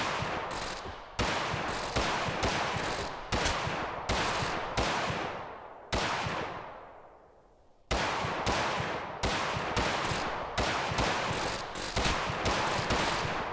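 Minigun fire in Totally Accurate Battlegrounds: loud, sustained rapid bursts that stop and restart repeatedly, with one longer pause where a decaying whoosh fades before the firing resumes.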